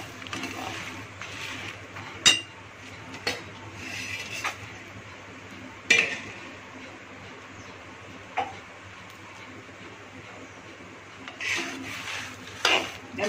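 Black urad dal roasting in a pan and being stirred, heard as a faint, steady background hiss broken by sharp scrapes and clinks from the utensil against the pan at irregular intervals.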